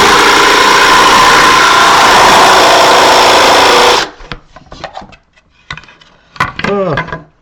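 A cordless drill bores into wood for about four seconds, a loud, steady high-pitched whir, and then stops; afterward come scattered light clicks and handling noises, with a brief voice near the end.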